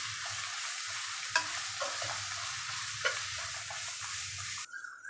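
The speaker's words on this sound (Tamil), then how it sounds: "நம்ம வெங்காயம் பாதி வதங்கும் போதே இந்த ஐட்டம்லாம் போட்டு அப்படியே வதக்கலாம்" Onion, coriander, mint and green chilli sauté in a pan for a mushroom biryani, making a steady hiss of frying with a low rumble, a couple of sharp spatula knocks, and an abrupt cutoff near the end.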